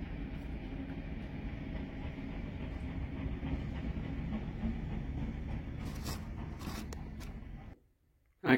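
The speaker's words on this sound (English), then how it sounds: "It's a steam train." A steam train rumbles past for several seconds with steady low clatter and rolling noise, then cuts off abruptly, leaving near silence before a brief knock.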